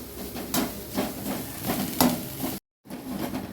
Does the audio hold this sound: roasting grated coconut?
yes